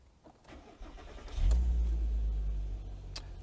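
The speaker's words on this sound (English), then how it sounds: "So let's start this car." A 2007 Audi A3 3.2 Quattro engine cranks and catches at once, settling into a steady, close, low idle rumble that dips slightly toward the end.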